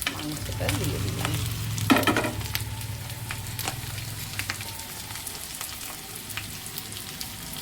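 Chicken pieces for chili chicken stirred and fried in a pan, a close sizzle with repeated scraping and clattering strokes of the spatula, loudest early and settling into a softer steady fry.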